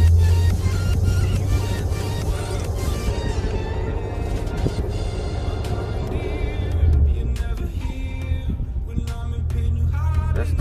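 A car engine fitted with a Rotrex supercharger is held at a steady rev, giving a continuous loud, close drone with a deep rumble that barely changes throughout.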